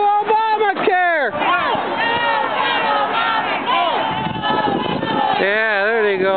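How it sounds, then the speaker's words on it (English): A Tea Party rally crowd in Merrillville, Lake County, chants loudly against Obamacare. Many voices shout in rhythmic unison, close and sustained, with brief pauses between bursts of chanting. "Yeah, there they go. Hear the chants."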